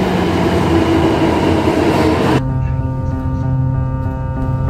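A train rolls along with a steady rumble and rattle, then shifts to a quieter humming interior tone with sustained tonal whine, close and continuous.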